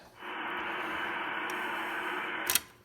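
Steady band-limited hiss and static from a Drake TR4 ham radio receiver tuned to an empty channel in AM mode, ending in a brief sharp click.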